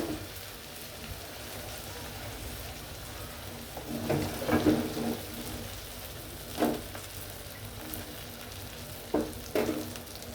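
Sarputi fish frying in mustard oil in a pan gives a steady soft sizzle, with a few louder crackling bursts rising now and then.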